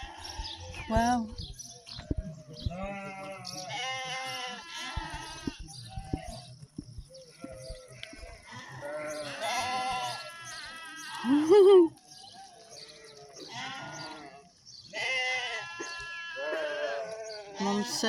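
Sheep bleat repeatedly in early morning in France, several calls overlapping at moderate distance, with birds chirping in the background and a quiet outdoor setting.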